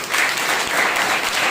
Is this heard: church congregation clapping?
yes